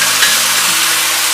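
Shiitake mushrooms and tofu skin stir-fried in a wok with seasoning, a loud dense hiss of sizzling that holds steady through a brief burst, with no voices.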